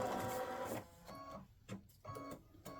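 An embroidery machine stitches text onto a greeting card, giving a fast, buzzing mechanical stitch run with brief pauses and restarts, close and fairly quiet.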